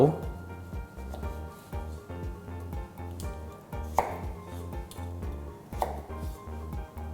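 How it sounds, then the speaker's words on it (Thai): A knife chops a carrot into pieces on a board, its quick rhythmic cuts set beneath a steady backdrop of voices and tonal background sound. "แครอท ผ่าเป็นชิ้นก่อน"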